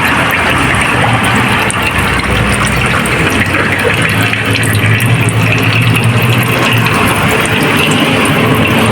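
Oil pours out in a loud, continuous gushing stream while draining from a Hyundai Stargazer during an oil change at a service center. The splashing flow holds steady and close, with no talking.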